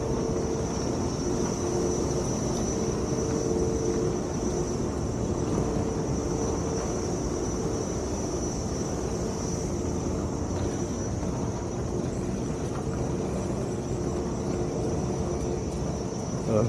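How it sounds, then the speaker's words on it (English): A propeller airplane drones overhead outdoors after a rainstorm, a continuous steady engine hum with a faint high whine, moderately loud and unbroken, with no talking. "You're not focusing on the plane that's just flying overhead."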